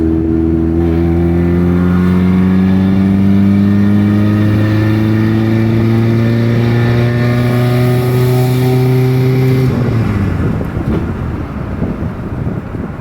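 A car engine drones steadily at high revs with a strong rising hum while climbing a hill, then abruptly drops off as wind noise takes over near the end.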